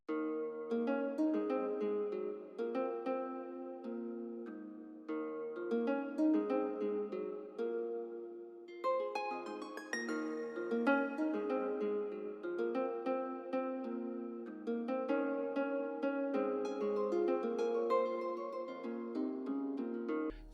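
A classic nylon guitar patch in Omnisphere plays a melody, processed with a limiter, EQ, RC20 and reverb; plucked notes ring out in a steady flowing line, soft and alone, with a reverb tail.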